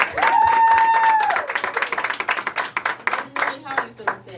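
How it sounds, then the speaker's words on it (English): An audience at a talk show breaks into a burst of clapping that fades into scattered claps, following a rising whoop from the crowd. "Give him a round of applause."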